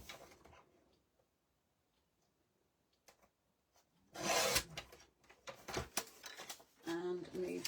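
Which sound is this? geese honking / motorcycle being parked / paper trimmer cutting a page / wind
paper trimmer cutting a page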